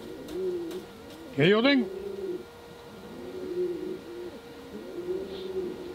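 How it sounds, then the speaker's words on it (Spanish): Pouter pigeons coo in repeated soft, rolling phrases at close range, with one louder swooping call in the middle and someone speaking Spanish briefly over them. "Esta pareja de palomas"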